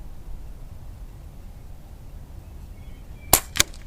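Two sharp, close pops ring out in quick succession near the end, a power-modded Air Venturi Alpha air gun firing 25.5 grain pellets after a quiet, hissy lull.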